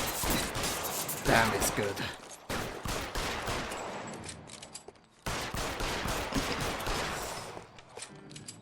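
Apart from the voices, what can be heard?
gunfire in LA Noire video game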